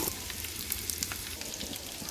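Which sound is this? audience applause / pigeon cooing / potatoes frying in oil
potatoes frying in oil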